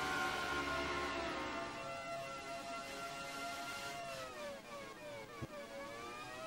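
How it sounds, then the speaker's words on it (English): PS1 racing game played on a PlayStation with disc speed set to fast: a synthesized car engine revs and whines with rising, sliding pitch, ending in a short sharp crash thump near the end. "we'll just blast off the line, go around a couple of corners, and I'm going to deliberately crash the car"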